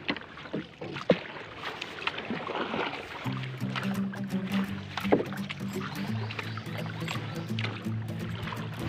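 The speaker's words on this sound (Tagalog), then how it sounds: "walang makina-makina to, mga kanglers. Sagwa di mano-mano to. Sagwaan di mano-mano." A small fishing boat is paddled by hand with no engine on a calm sea, giving soft paddle splashes and water gurgles near the hull, with some wooden knocks and a low background hum.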